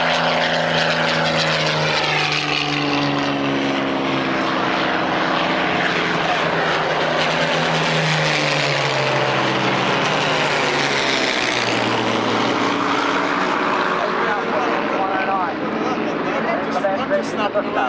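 Spitfire and Messerschmitt ME-109 propeller fighters fly past at an airshow, a loud continuous droning engine roar with shifting pitch as they pass, while spectators talk over it.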